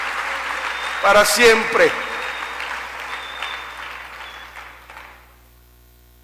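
A church congregation claps in praise during a Spanish-language sermon, a burst of applause that swells, then fades over several seconds while a preacher's voice speaks over it.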